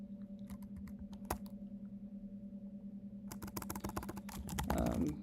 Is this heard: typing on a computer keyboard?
yes